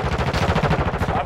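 A submachine gun fires in Call of Duty Modern Warfare 2 beta Domination: a loud, rapid, unbroken stream of shots with a steady rattling rhythm and no voices.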